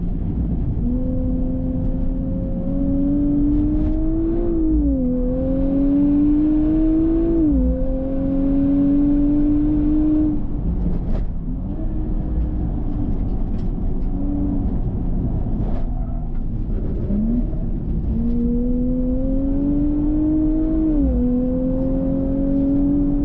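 A 2024 Nissan Z NISMO lapping a race track, its engine droning steadily and loud throughout, rising and falling in pitch through repeated upshifts, braking and acceleration, with no talking.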